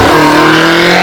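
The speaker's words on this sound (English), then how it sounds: "So another twin turbocharged V8 in front of them" A BMW M5 Competition with a twin-turbocharged V8 accelerates hard up a hill climb at close range, a loud, sustained engine roar filling a brief second.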